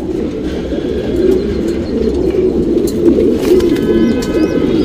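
Patta breed pigeons coo close by in repeated soft, throaty rolling calls that overlap steadily, with a few faint chirps and light rustling in the background.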